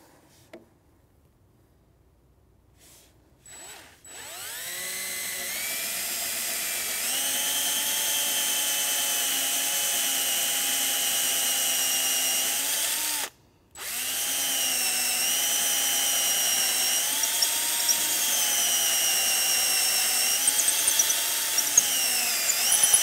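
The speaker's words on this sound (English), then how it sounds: "I'm going to go really slow, and I'm going to go straight with this included drill bit" Power drill boring slowly and straight through wood with its included bit during assembly of a Rialto Reformer Konnector, a steady close whine starting after a brief pause, stopping once midway, then resuming with shifting pitch; no talking.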